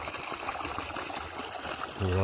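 Water runs through a farm field sown with groundnut and onion, making a faint, steady trickle for the whole short stretch. A brief voice comes in at the very end.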